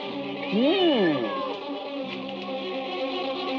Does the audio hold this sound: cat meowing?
yes